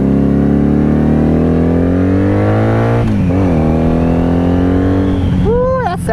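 Wrecked 1997 Honda Magna VF750C V4 cruiser pulling away in first gear, loud close engine drone rising steadily in pitch, then a brief rev dip near the end with wind noise.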